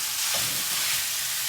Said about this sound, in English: So I'm gonna put in the beef. Where's the beef? Into the skillet to start to heat up.